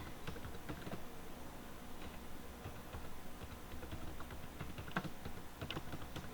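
Quiet, steady computer keyboard typing with irregular soft key taps throughout, faint and close, during a QGIS population geography mapping practical.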